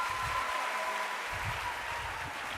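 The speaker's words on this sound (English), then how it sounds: "You can give yourselves a big round of applause." Graduates at a University of the Western Cape welcome ceremony fill the hall with dense, steady applause, a continuous wash of clapping from a large crowd throughout.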